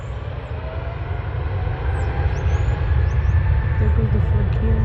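A Frontier Airlines jet takes off at an airport, its engine roar a steady broad rumble building in loudness from a distance, with faint voices in the background.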